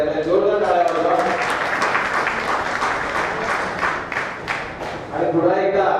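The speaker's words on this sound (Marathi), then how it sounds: "जोरदार टाळ्या वाजवा" An audience at a felicitation ceremony bursts into loud, sustained clapping during a bouquet presentation, dense applause for several seconds with a voice speaking at the start and end.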